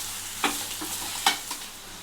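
Half a kilo of chopped ridge gourd sizzling and frying in a pan for a village-style curry, with two sharp scrapes of a stirring spoon over a low, steady hiss.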